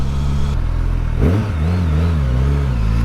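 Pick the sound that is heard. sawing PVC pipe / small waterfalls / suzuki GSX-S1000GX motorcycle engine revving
suzuki GSX-S1000GX motorcycle engine revving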